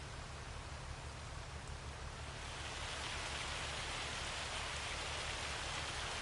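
Steady rain pours down in the farming game Farming Simulator 25, a dense continuous hiss that thickens and grows louder partway through, with a low constant hum underneath and no talking.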